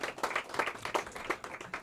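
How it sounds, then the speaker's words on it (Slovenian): A brief patch of audience clapping for a singer at a VIP concert marking Radio Robin's 30th anniversary, moderately loud and dense, with no talk over it. "ki si seveda zasluži še en velik aplavz za to glasbeno poslastico"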